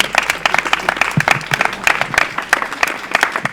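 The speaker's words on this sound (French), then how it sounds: "On applaudit très fort" A crowd applauding athletes, including a rowing champion, at an outdoor school raid event: loud, brisk clapping with sharp individual claps standing out, sustained for the whole stretch.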